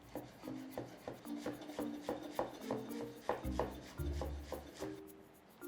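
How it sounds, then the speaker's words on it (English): A knife roughly chopping fresh parsley on a board for a capsicum salad, a quick run of regular soft thuds and rasping strokes, close and fairly quiet, with no voices. "After picking our parsley, we'll need to roughly chop it."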